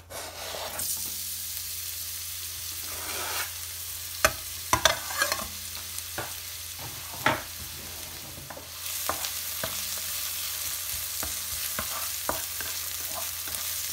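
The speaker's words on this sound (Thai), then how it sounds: "จากนั้นยายก็จะใส่กระเทียมกับหอมแดงลงไปค่ะ" Garlic and shallots fry in about two tablespoons of oil over low heat, a steady sizzle punctuated by sharp utensil taps and scrapes against the pan, growing fuller partway through, with no speech.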